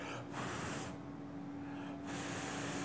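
A multi-purpose hair spray hisses from a can in two close bursts separated by a short pause, with no talk over it.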